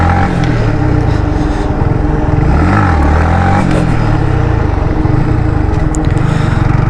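A tipper tractor drives past on the road, its heavy engine making a loud, steady drone that swells briefly as it goes by.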